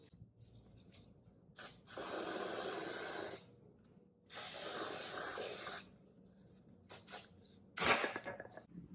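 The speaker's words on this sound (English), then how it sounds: "I forgot to spray under my boobs." Two long hissing blasts of aerosol spray, close and steady, followed by a few short quick spritzes.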